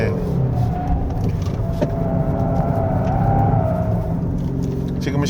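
A 2024 Hyundai Sonata N Line with the 2.5-litre turbo engine, driven hard along a winding mountain road, giving a loud, steady engine drone and road roar from inside the cabin while people talk over it.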